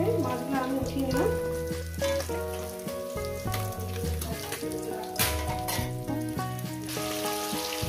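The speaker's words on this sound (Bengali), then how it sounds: "মাছগুলো ভাজা হবে।" Fish pieces frying in hot oil for a light fish curry, a steady crackling sizzle with clatter of utensils and some background music, close and moderate in level.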